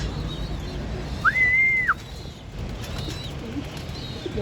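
A pigeon gives one short, clear whistled coo against a constant outdoor hiss, with faint background sound and no talking.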